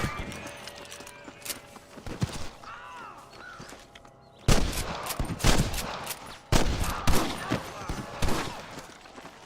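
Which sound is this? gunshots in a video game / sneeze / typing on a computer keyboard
gunshots in a video game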